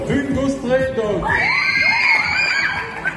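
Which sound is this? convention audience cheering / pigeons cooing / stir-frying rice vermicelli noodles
convention audience cheering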